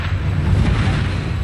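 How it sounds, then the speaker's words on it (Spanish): A meteorite bursting in the air before reaching the ground produces a loud, continuous, deep rumbling roar that holds steady for a moment, with no voices. "un meteorito llegado a la atmósfera terrestre estalla en el aire antes de llegar al suelo"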